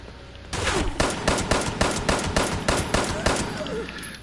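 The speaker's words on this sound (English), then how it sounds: "This is a weak pistol." A weak pistol in the game Fallout 76 fires a rapid, even run of about ten sharp gunshots, loud and close, across a few seconds.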